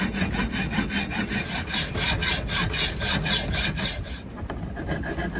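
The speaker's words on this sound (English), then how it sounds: "So I'm going to cut this screw off." A hand saw rasps through a stripped metal screw aboard a boat, with steady, close back-and-forth strokes that continue without a break.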